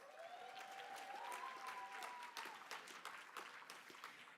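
An awards ceremony audience applauds in a sustained, fairly even patter of many hands, quiet overall, with a faint tonal musical line drifting underneath at the start.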